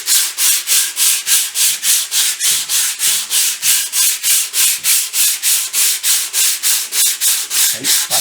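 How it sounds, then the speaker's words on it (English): Steady rhythmic rasping of a flat sanding block rubbed back and forth on a Triumph 500 motorcycle, about three strokes a second, loud and close with no talking. "we'll use a flat sanding block, and I can show up all the low areas"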